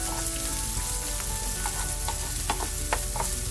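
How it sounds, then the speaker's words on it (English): Chopped onions sizzle and fry in a pan as they brown, a steady crackling hiss with occasional sharper pops and stirring scrapes, close and alone without talk. "We're going to cook our onions till they're light brown here"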